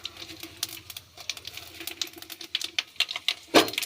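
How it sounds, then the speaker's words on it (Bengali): Panch phoron, bay leaf and dried chilli fry in hot oil with rapid, irregular popping and crackling that builds toward a louder burst near the end. "তেলটা তো গরম হওয়ার পরে আমি দিলাম পাঁচ ফোড়ন আর তেজপাতা আর শুকনো লঙ্কা।"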